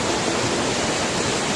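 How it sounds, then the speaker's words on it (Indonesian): The Silangit-Langit waterfall in Subulussalam, Aceh, heard close up as a loud, steady, unbroken rush of falling water with no voices. "akhirnya kita tiba kembali ke air terjun Silangi-Langit"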